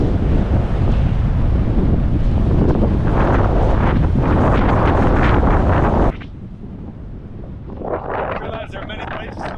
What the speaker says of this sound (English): these are some of the biggest waves I've seen here on the Delaware coast